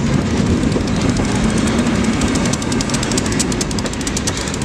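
An Ohio Central freight locomotive runs close by with a steady, loud, heavy rumble and a rattling metallic wash that continues without a break, and no voices.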